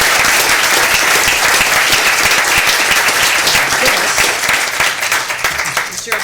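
A city council meeting audience applauds to honour an employee, giving a steady, dense round of clapping that stays loud throughout and eases slightly near the end.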